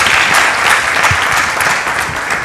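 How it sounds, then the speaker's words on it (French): Studio audience on a talk show bursts into loud, close applause, a dense steady clatter of many hands lasting a couple of seconds and easing off slightly at the end. "Applaudissements."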